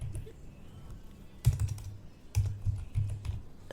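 Quick bursts of typing on an HP laptop keyboard, soft close clicks in two short clusters over a faint background hum, no voices.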